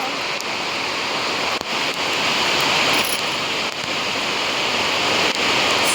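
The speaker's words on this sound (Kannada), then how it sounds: "ಮಳೆ ಜೋರಾಯಿತು" Heavy rain driven by strong wind on a trip to Sigandur and Kollur, a dense, loud, unbroken hiss with occasional gusty surges and faint knocks, heard up close.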